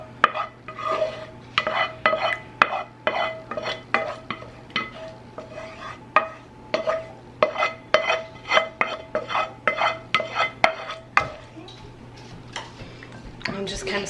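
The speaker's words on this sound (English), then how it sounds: "I just got to get these last potatoes in and try and get it covered in the sauce" Potatoes are stirred into sauce in a baking dish, with repeated close wet scrapes and light clinks of a utensil against the dish while a person talks.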